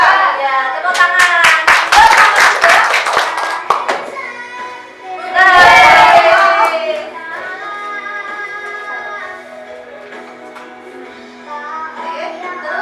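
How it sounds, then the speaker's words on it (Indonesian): Children in a classroom clap in a quick burst of sharp claps, followed by a second short round, with a teacher and kids talking in between and after. "Ya, tepuk tangan."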